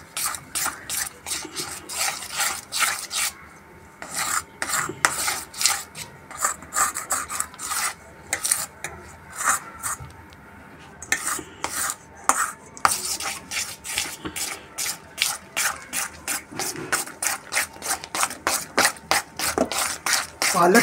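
Spinach sev dough is mixed by hand in a bowl, heard as rapid, rhythmic rubbing and scraping strokes that pause briefly and then resume, close and fairly loud.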